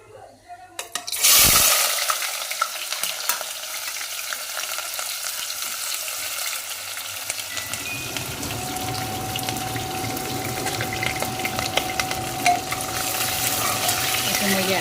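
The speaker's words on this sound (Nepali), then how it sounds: "यो प्याज चाहिँ म धेरै फ्राई गर्दिनँ" Onion frying in a pan for mutton curry, a steady broadband sizzle that starts after a sharp clatter and continues evenly, close and fairly loud, with no talk.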